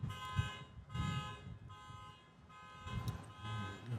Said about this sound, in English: A little car alarm in one of the safest cities in California.